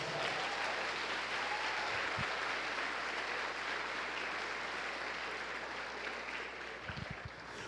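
A church congregation applauds in a sustained, dense roar of clapping that holds steady throughout and tapers slightly at the very end.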